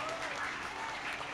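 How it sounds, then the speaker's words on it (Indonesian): A school audience of students claps together at a Ramadan gathering, a short dense burst of applause heard at moderate distance. "sekali lagi tepuk tangan untuk Pak Agus dan teman-teman dari Padang."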